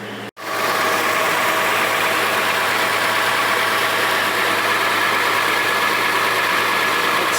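Toyota FJ Cruiser engine settling into a steady idle right after start-up, a low constant hum and rumble after a brief drop at the very start, close and unchanging.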